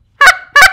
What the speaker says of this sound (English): When you call, whether it be ducks or geese, you want it to come from your diaphragm